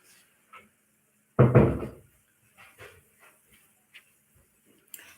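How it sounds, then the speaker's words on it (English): An indoor door is pushed shut with one solid, fairly loud thud, followed by a scatter of soft clicks and small knocks in an otherwise quiet room. "let me close this door."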